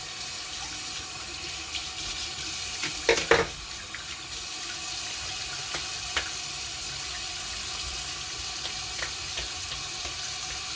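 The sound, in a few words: water running from tap while rinsing off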